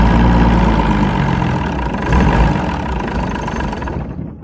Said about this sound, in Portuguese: Deixar ele acelerado e dar partida para vocês verem